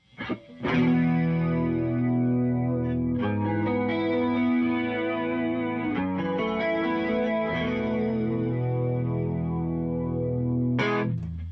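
Guitar played through a Synesthesia effects pedal, sustained ringing chords with a chorused, slightly distorted, shimmering tone, a few strummed changes over about eleven seconds, full and steady with no talking.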